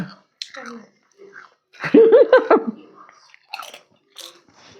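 Crunchy bites and chewing of a snack dipped in sauce, close to the mic, with a loud burst of crisp crunching in the middle and softer chews around it, broken up by quiet speech.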